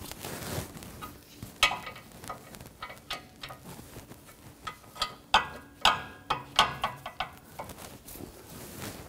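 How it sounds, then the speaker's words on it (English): A ratchet tightens the front brake caliper bracket bolts on a 2004-2009 Audi A4 Quattro, making a run of crisp, close clicks in short uneven bursts across several seconds, with no voices. "Tighten those down, and we'll torque those to 140 foot-pounds."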